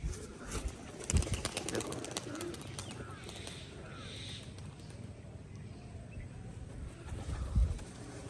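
A Giribaj tumbler pigeon coos faintly amid rustling and wing flaps, with a couple of sharp thumps against a noisy outdoor background.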